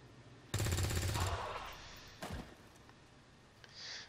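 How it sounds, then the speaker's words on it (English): Gunfire in the video game XCOM 2, a rapid burst of shots lasting under a second followed by a single heavy impact, then quiet. "That guy in the back is going to take the shot."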